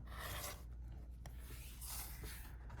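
A rotary cutter rasps along a Tucker Trimmer ruler while trimming a fabric half-square triangle quilt block, giving a close, continuous scraping rub in two strokes with a brief pause between them.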